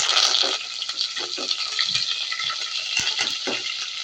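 Garlic sizzles and spits in hot oil in a home kitchen, a steady bright crackle with scattered pops and bubbling, close and fairly loud, with no one speaking.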